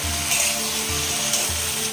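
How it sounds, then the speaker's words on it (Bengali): Eggplant pieces fry in hot oil in a pan, a continuous close sizzle with a few soft rhythmic stirring scrapes and no talking. "বেগুনটা ভাজা হয়ে গেছে।"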